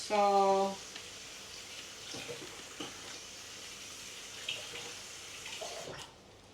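Running tap water filling a vessel for heating in a home kitchen, a steady soft hiss of flow throughout at moderate distance, with a brief tonal whine at the start and a faint clatter near the end.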